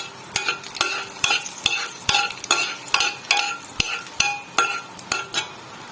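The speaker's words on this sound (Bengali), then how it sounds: "প্রথমে শুকনো লঙ্কা দিলাম ও জিরে" Dried red chillies and cumin seeds crackle in hot oil in a wok as a tempering for potol dorma gravy, with sharp metallic spoon strikes clinking against the pan in a quick irregular rhythm.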